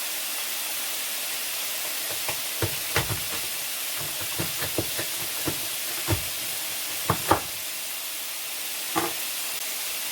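Bacon fries in a pan with a steady background sizzle and scattered sharp pops and crackles, close by, with no talking.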